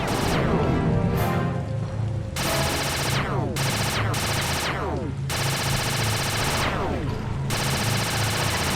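In the Sly 2 video game, rapid mechanical gunfire is aimed at a blimp, a loud continuous barrage of bursts over a low droning hum, with sweeping whooshes and crashes cutting through at intervals.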